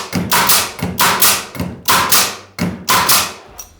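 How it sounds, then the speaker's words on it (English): A Delfast roll cap nailer is dry-fired with no fasteners loaded, giving about seven loud, close pneumatic thumps with sharp air bursts at a steady, rapid rhythm. "We've got no fasteners in, and we're just going to dry fire it"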